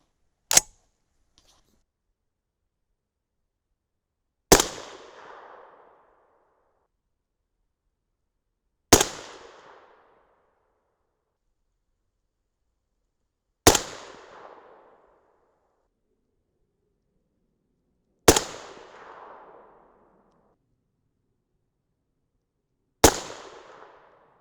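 Six sharp rifle shots from a 6.5 Grendel firing 140-grain Hornady Match BTHP loads, evenly spaced about four to five seconds apart, each a loud crack with a short decaying echo, separated by silence.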